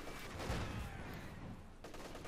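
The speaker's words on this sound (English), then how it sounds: "Explosion went off there." A battlefield explosion in Company of Heroes 2, a loud broadband blast rumbling through dense gunfire and artillery noise, with another burst near the end.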